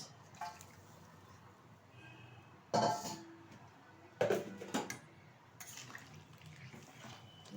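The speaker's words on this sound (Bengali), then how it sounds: "ঝোলের মধ্যে দিয়ে দেবো ভেজে রাখা মাছ" Pieces of fried shalpia fish dropped into a simmering fish curry with gati kochu, making two splashy plops about a second and a half apart against a quiet kitchen background.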